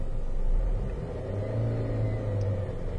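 A car engine being diagnosed after dying while driving is held at about 3,000 rpm, a steady, droning rumble that stays close and fairly loud for a few seconds with no speech over it.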